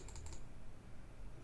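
Light typing on a computer keyboard, a quick cluster of soft key clicks at the start and another tap at the end, faint and close in a quiet room.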